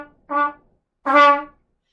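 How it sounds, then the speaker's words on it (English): A bugle plays two short, separate tongued notes, the second longer and louder. The attack is blurry and blobby rather than crisp, as in poorly executed triple tonguing, and the notes sound clear and close against silence. "It's very common to have it sound like this, to have the K sound be really like a blop of music"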